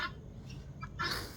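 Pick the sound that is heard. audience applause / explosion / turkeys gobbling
turkeys gobbling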